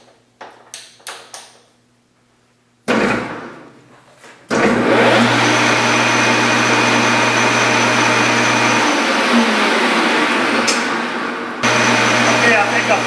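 Model spool valve engine: after some light clicks and handling, a steady, loud mechanical whir starts up and runs continuously, with a brief dip in pitch before it carries on.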